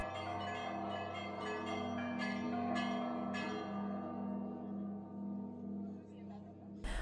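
Church bells at Pskov-Pechersky Monastery, swung with long poles in the old Russian manner, ring in a layered pattern of repeated strikes over a sustained humming drone, a voice talking faintly beneath.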